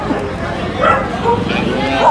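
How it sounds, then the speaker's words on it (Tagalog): A dog barks and yips a few times amid a busy street scene, with people talking nearby and general crowd noise throughout. "May aso"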